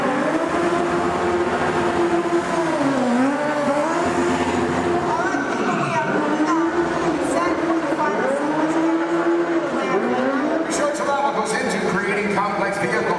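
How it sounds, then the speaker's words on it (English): Stunt cars race and skid at a Disney vehicle stunt show, engines revving up and down in repeated swooping passes, loud and continuous, with a voice speaking over the action. "Complex vehicle stunts."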